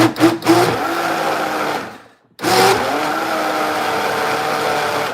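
A countertop blender runs loud and close in a steady whirring roar, cuts out briefly for a moment of near silence, then starts again and keeps grinding steadily.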